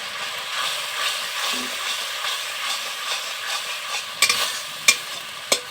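Cauliflower pieces coated in red chilli, coriander and cumin powders are stirred in a frying pan, a steady soft scraping sizzle with a few sharp utensil knocks near the end.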